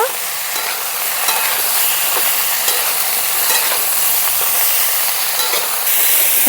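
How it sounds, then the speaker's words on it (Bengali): Potatoes and broccoli with turmeric and salt frying in a pan, a steady broadband sizzle with faint stirring clicks running throughout, close and fairly loud, no voices. "ঢাকা দিয়ে ভাজা ভাজা করে নেব যাতে করে সেদ্ধও হয় আর ভাজাও হয়"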